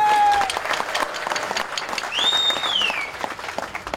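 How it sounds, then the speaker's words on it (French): Applause from an audience at a political organisation meeting, steady clapping throughout with a brief whistle-like tone near the start and a rising whistle midway. "Nous applaudissons le docteur Navin Ramgoulam."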